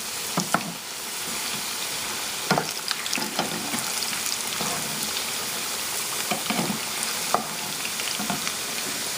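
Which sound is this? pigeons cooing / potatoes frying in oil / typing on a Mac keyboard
potatoes frying in oil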